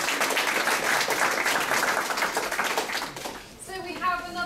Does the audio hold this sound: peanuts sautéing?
no